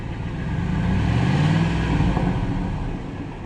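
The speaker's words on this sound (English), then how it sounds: "He's just revving it in park or revert or neutral." A car engine revs up in park or neutral, holds a higher pitch, then eases back down, a steady mid-pitched roar close by with no talking.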